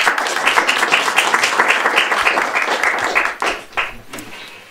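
Steady audience clapping fills a small room at a Jára Cimrman-themed theatre evening. It is dense and continuous, then thins and trails off near the end.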